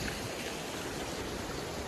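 A small waterfall stream flows on the Gaumukh trek, a steady, even rush of water heard close and alone with no voices.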